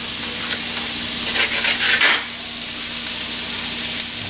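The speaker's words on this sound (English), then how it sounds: "sausage and keep stirring it so you won't overly cook the sausage" Sausage for a breakfast casserole frying in a pan while being stirred, a loud close sizzle with a burst of scraping stirring midway, then a steady hiss, no voices.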